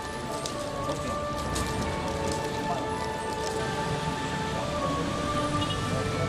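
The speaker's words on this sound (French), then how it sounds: "Il pleut depuis des heures" Steady rain patters continuously on a surface, a dense even hiss with occasional louder drops throughout.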